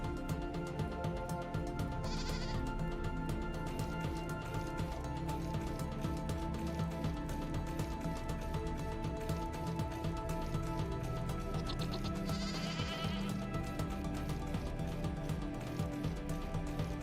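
Goat bleats from the video game Vintage Story, two short cries a few seconds apart over a steady, busy game soundtrack, moderately near with no talking.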